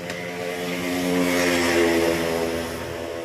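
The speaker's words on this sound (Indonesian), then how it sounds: "untuk selanjutnya saya akan nyalakan motor" A motorcycle with a fouled black spark plug that tends to stall and burn excess fuel runs steadily after an electric start, a droning, harmonic engine note that swells slightly in the middle and then eases back.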